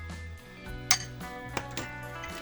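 Utensils clink and scrape against a bowl a few times while mixing a cheese filling with sour cream, mayonnaise and pepper, over a low steady hum, soft and close, with no talking.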